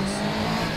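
A cartoon motorbike race gets underway with a short, loud burst of engine roar and tire noise, close by.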